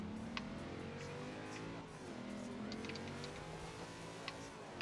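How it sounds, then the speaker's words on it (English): Nissan Skyline GT-R R34 tuned to 928 horsepower with four-wheel drive, driven in the racing game Forza Horizon 2, its engine holding a steady droning cruise with a slight rev dip and rise, plus faint ticking clicks. "this is a Skyline R34 GTR."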